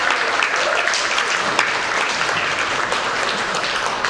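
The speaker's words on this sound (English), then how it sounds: "a round of applause for you" Audience at a Nerd Nite concert event applauds continuously and loudly for about four seconds, a dense steady wash of clapping with a few sharper claps standing out.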